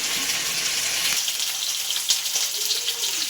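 Fish pieces coated in green masala fry in hot oil, giving a dense, steady close sizzle that runs alone throughout.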